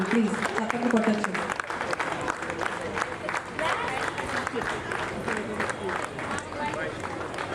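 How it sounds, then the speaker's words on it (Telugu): Applause from an audience at a Hindu community gathering honouring committee members, a steady dense patter of clapping mixed with crowd murmur, moderately loud throughout. "ప్లీజ్ చప్పట్లు కొట్టచ్చు"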